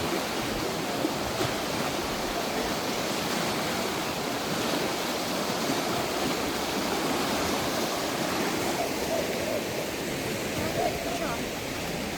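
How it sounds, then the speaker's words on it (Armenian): A swollen river in flood rushes past, a steady, loud broadband roar of churning water that fills the whole stretch without pause. "Գետը տեսնում եք ինչ վարարա"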